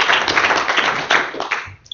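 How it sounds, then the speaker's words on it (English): Audience applause for a speaker at a tech talk, a dense burst of many hands clapping that carries on steadily before thinning out near the end. "give a round of applause for Dirk"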